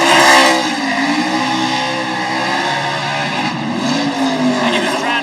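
A NASCAR stock car holds a burnout on the Las Vegas Strip with its left front wheel locked, its engine screaming loud and sustained amid tire squeal while a commentator talks over it.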